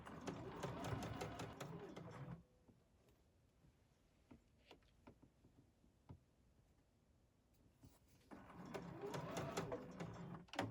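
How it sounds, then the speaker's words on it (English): A sewing machine finishes a seam on a batik rayon kimono, stitching in two quiet, close bursts with a pause and soft handling clicks between, as when the fabric is pivoted. "line up my seam one more time, and then finish stitching"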